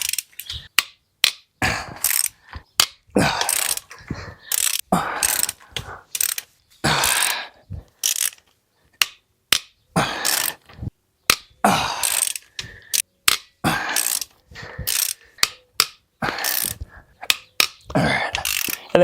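Hand ratchet with a socket working loose the head bolts on a Toyota 2JZ engine, giving repeated sharp clicking bursts of pawl ratcheting in quick runs with brief pauses, close and fairly loud, no talking.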